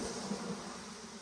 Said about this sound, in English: this is a pretty tiny little swarm